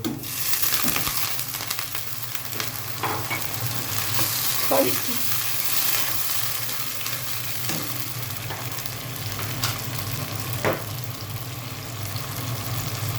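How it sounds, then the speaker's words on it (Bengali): A wet paste of ginger, garlic and cumin with water bubbles and sizzles in a pan while a utensil stirs and scrapes it now and then, making a continuous, close cooking sound. "এখন আমি এর মধ্যে অ্যাড করছি পানি মশলাটা ভাজার জন্য।"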